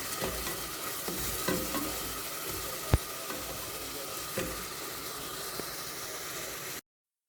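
Onion fries with salt, dried lemon and cinnamon sticks in a pot, giving a steady close sizzle broken by a few sharp spoon knocks and stirring scrapes before it cuts off abruptly at the end.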